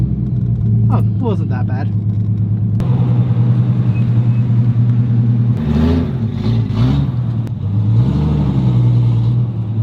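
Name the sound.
car engines as 350, Civic and GTR are moved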